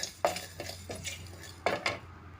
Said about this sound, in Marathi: तर आता मी ही बडीशेप गरम करून घेते.